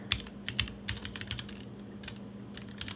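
Irregular clicks of typing on a computer keyboard, close and fairly quiet, with uneven bursts of keystrokes over a steady low electrical hum.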